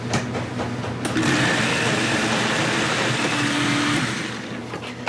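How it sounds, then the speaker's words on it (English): A blender pureeing roasted habaneros, garlic and grilled tomato into a smooth sauce, a loud steady high whirring motor that ramps up after a brief start and winds down near the end, with no talking. "Then we're going to blend that to a smooth consistency."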